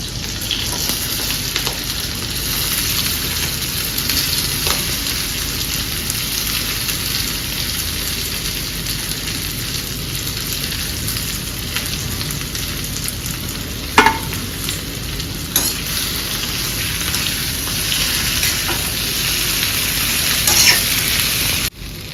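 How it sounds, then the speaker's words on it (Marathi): Potato pieces fry in hot oil with crackling chillies, a loud, continuous close sizzle with occasional sharper pops and no talking. "आता याच्यात घालूया बटाटे"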